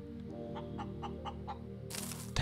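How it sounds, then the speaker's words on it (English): A chicken in the space survival game Breathedge clucks in a steady series of short, evenly spaced calls over a low hum, ending with a sudden loud burst of noise. "That chicken, man."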